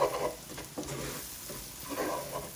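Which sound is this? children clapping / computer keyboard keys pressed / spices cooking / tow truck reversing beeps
spices cooking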